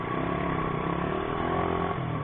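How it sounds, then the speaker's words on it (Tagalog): A motorcycle engine that will not start sputters and clatters in a rough, continuous mechanical rumble, close and steady, with no talking over it. "Hindi na nag-start yung motor ni Kuya"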